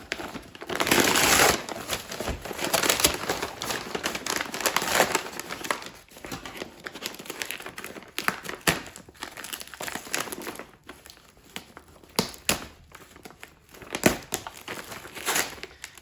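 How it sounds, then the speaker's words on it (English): Paper packaging being unwrapped from a PS3 Guitar Hero guitar: repeated crinkling and crushing of paper, loud and close, in bursts of varying intensity with brief pauses. "Kind of interesting packaging, it's just paper."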